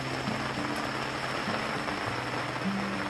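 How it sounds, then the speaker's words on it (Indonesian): Steady rain patters on a lakeside campsite at Ranca Upas near a 4-metre fishing lamp, a dense even hiss filling the whole moment with faint low tones underneath and no talk. "Wah, masih hujan."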